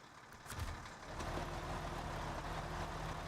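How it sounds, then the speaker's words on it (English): An FLD50 truck engine in SnowRunner idles and rumbles steadily at a low, moderate level, with a continuous drone and no talking. "I like the engine sound of the FLD50, by the way"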